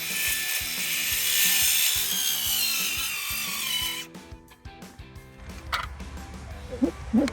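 Wood being cut for a goat house with a repetitive ratcheting, rasping rhythm, loud and close for about four seconds, then sparser knocks and clatter.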